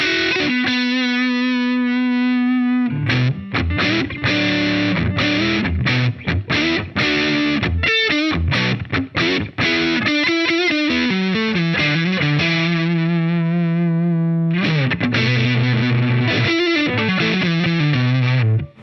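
Electric guitar on the neck pickup driven through a Keeley Angry Orange set to DS-1 mode, loud distorted chords and single-note runs with sustained notes, brief stops and a ringing final phrase, no talking.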